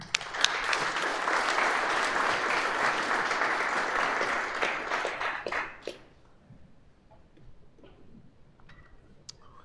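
An audience breaks into sustained applause to welcome a speaker at a talk on adaptive, intelligent AI hardware, clapping steadily for several seconds before fading to a quiet room.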